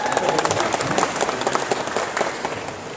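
Applause from an audience at an installation ceremony, a dense patter of clapping hands that stays steady throughout, with voices in the room mixed in.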